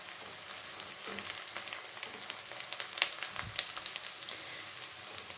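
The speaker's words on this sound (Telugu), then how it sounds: "ఇవి కొంచెం లైట్గా ఫ్రై అవ్వాలి. కొంచెం కరివేపాకు." Curry leaves fry in hot oil for an Andhra-style fish curry, giving a steady, close sizzle with dense crackling and a few louder pops, and no one speaking over it.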